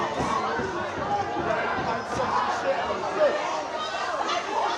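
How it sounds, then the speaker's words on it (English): Rugby fans at a varsity match argue with one another in the stands, a dense, continuous babble of shouting and chatter close by, with no single voice standing out. "The crowd's getting at each other."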